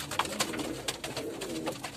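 Domestic pigeons coo softly in a short, continuous stretch of low, throaty calls. Faint rustling from the birds sits under the cooing, with no talking.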